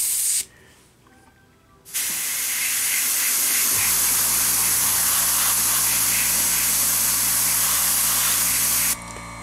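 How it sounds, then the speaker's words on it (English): Aztek airbrush spraying paint onto a masked model, a loud steady hiss that starts after a short quiet gap with a brief burst and then runs unbroken for several seconds before stopping. "Now we're ready to spray."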